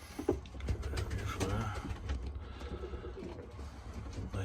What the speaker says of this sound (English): Nice looking birds.